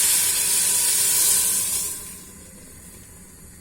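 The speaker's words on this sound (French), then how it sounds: "Donc maintenant on va rajouter l'eau" Water pours into a cooking pot of Moroccan-style vegetarian lentils, a steady bright hissing rush that fades after about two seconds to a quiet background.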